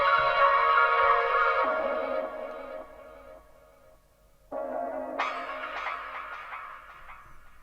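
A shimmering synth texture pitched up an octave swells and fades with echoing delay repeats, then a brighter layer enters and trails off in delay.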